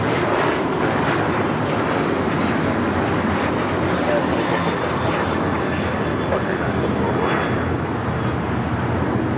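A Korean Air Boeing 747 taxiing toward the north side of LAX, a steady loud jet-engine rumble and hiss that holds evenly throughout, with talk over it.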